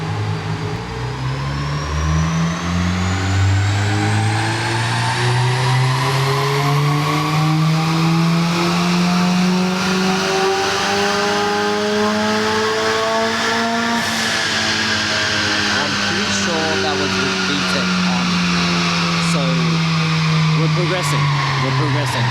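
Engine of a tuned car at CMS Performance revving hard and continuously, pitch climbing in long sweeps, dipping, then climbing again, loud and close throughout.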